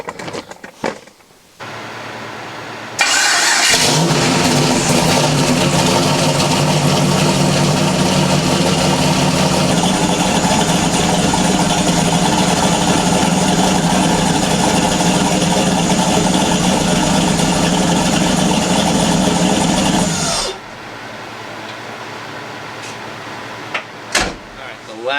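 An LS engine in a Foxbody car cranks, fires up with a loud burst and idles steadily and roughly for about seventeen seconds before shutting off, with clicks and door-like thumps around it.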